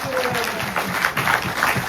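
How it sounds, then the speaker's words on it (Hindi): Audience at an offline blockchain education program clapping loudly, a continuous fairly close burst of applause with a voice briefly audible near the start. "एक बार जोरदार तालियां उनके लिए हो जानी चाहिए"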